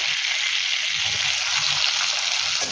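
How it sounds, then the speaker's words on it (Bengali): Chopped onion sizzling steadily in melted butter in a pan, a continuous bright frying hiss with soft stirring underneath, close and fairly loud throughout. "বাটার খুব ভালো মতো মেল্ট হয়ে গেছে। এবার এর মধ্যে দেব আগে থেকে কুচিয়ে রাখা পেঁয়াজ।"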